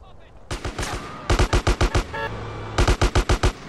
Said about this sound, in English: Who is shooting at me right now?